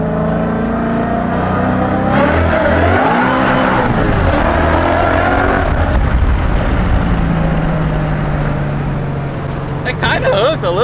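A 1000hp Toyota Supra launches hard in second gear, its engine roaring loud and close with a rising rev and a sustained blare that holds for most of the run, heard over wind and road noise.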